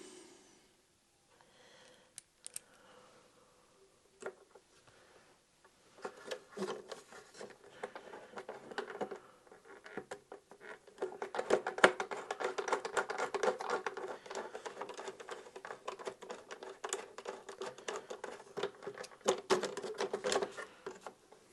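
Screws being driven into a plastic Atari 2600 console case produce close scraping and rubbing, scattered and sparse at first, then a denser, steadier grinding run.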